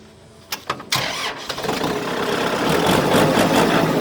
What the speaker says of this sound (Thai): รถสตาร์ทติดง่ายครับผม เครื่องนิ่มๆเลย